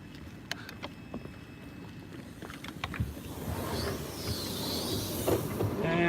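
Passenger train travelling at night, a continuous rumbling ride noise with rhythmic clicks and clacks of wheels on track, growing slightly louder and rougher toward the end.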